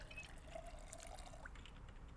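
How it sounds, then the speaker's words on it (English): A water bottle being filled in the video game Project Zomboid, a soft, quiet trickle of pouring water lasting about two seconds. "Fill a water bottle."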